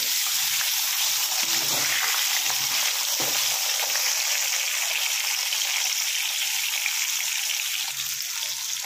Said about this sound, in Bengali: এবার আলুগুলো একটুখানি ভালো করে ভেজে নিতে হবে